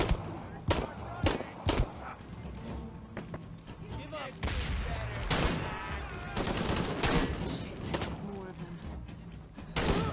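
Gunfire in Shadow of the Tomb Raider comes in sharp bursts of scattered shots and short volleys, loud and close. A voice talks between the shots.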